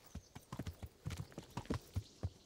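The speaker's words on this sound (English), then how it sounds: "Riding the horse." Horse hooves clip-clop at a riding pace in the Kingdom Come Deliverance video game, a fairly quick, uneven run of hollow knocks heard close and mostly alone.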